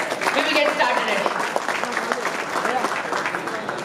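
An audience at a film event breaks into dense, sustained applause, a loud crackling wash of clapping from many hands with a voice audible over it.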